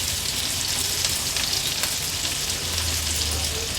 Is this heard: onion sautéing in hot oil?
yes